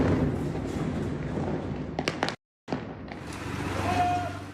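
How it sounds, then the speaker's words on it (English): Explosions echo through a Gaza City street: distant thumps and sharper cracks over a rumbling background, with a brief dead-silent gap partway through. "A cacophony of explosions, echoing hour after hour."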